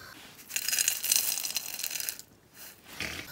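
Crispy roasted black chickpeas rattle and skitter in a pan in a short, close burst of dry clattering that pauses and briefly resumes, with no talk.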